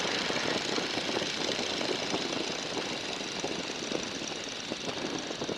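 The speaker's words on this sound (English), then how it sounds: "Trying to get rid of some of the engine sound. It's pretty loud out there." A 1942 Boeing Stearman biplane's radial engine drones loud and steady in flight, a continuous dense roar with rapid firing pulses and wind noise filling the whole span, no voices.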